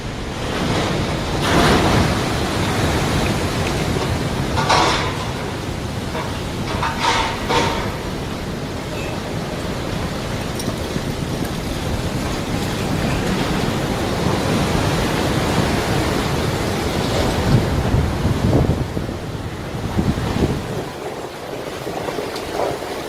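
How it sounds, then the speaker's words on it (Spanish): Ocean waves roar continuously as surf breaks and rushes in, loud and close, with wind buffeting the microphone and a few louder crashes standing out. "a causa del bramido del mar y de las olas"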